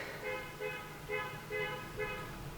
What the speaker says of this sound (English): Why are you honking?